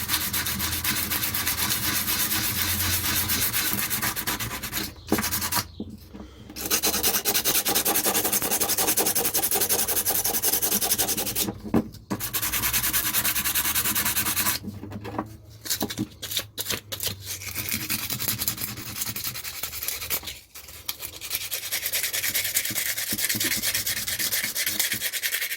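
Rust being scrubbed off a metal tool blade, a close, steady abrasive rubbing and sanding rasp that carries on for most of the time, broken by a few brief pauses as the stroke resets.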